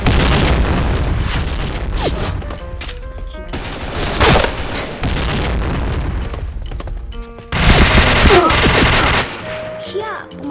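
Grenade explosions and gunfire in the Point Blank shooter game, loud booms and rapid bursts of automatic fire in several separate blasts, with short quieter gaps between them.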